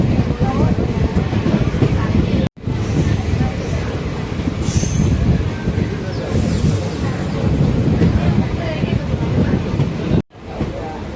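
A Madurai–Coimbatore passenger express train rumbles along, loud and close, with continuous wheel and carriage roar, faint high squeals, and two brief dropouts where the noise cuts sharply before resuming.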